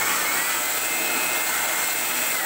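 An electric blower roars steadily at close range while parts of a laptop that won't power on are cleaned, a constant loud airy whoosh with no speech.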